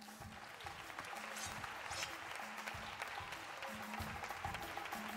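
Applause from the audience at the Premis Atrapallibres i Protagonista Jove 2024 award gala, steady moderately distant clapping filling the hall throughout with a low rhythmic background under it.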